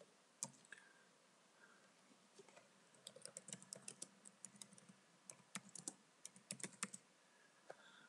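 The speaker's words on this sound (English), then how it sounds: "Let's just type into that." Typing on a computer keyboard while entering text into a Word Online document, a quick, irregular run of close, light key clicks with short pauses, heard alone.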